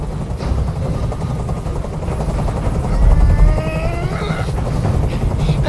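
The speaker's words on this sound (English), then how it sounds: "I can't stand that noise anymore. Tell that helicopter to get out of here." Helicopter hovering in the video game Detroit: Become Human, a steady thumping rotor drone with low engine rumble that swells midway, alongside faint tonal game sounds.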